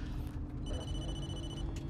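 A telephone rings in the horror video game Blair Witch: one faint electronic ring, quiet and held for about a second over a low background rumble.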